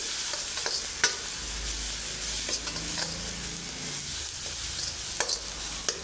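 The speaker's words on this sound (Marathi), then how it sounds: "सगळं आता मिक्स करून घेतो." Ground turmeric, byadgi chilli powder and onion-garlic chutney stirred into paneer bhurji in a hot pan: a steady low sizzle under repeated scraping strokes of a spoon against the metal, close and continuous.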